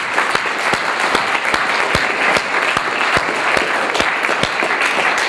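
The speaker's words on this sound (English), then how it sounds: "give them all a round of applause" Audience at a science event applauding, dense steady clapping from many hands, loud and close, with no talk over it.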